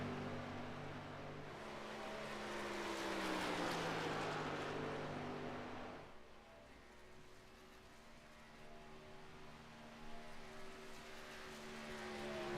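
Race truck engines droning on an oval track at Kansas Speedway in an iRacing truck series qualifying run, a steady sustained roar that swells for several seconds and then drops to a lower, fainter hum.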